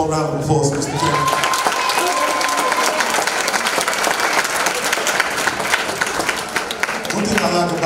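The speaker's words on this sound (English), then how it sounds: "One more round of applause, Mr. Campbell." Sustained, dense applause fills a high school graduation ceremony hall for several seconds, loud and steady throughout, with a brief voice at the start.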